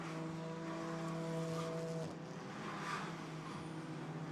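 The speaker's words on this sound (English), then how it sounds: "Van der Ende going through, and now trying to work his way past the Mercedes, look, on the inside line there, and gets up the inside" GT4 race cars at the Misano circuit, a steady droning engine roar with a sustained tonal whine that drops away partway through, continuous and fairly distant.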